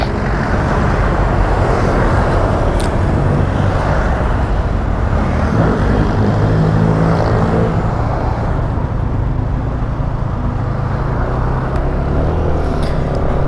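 Fast road traffic rushes past during a habal-habal motorcycle ride, a dense steady roar of engines and tyres close by, loud and continuous with no talk over it.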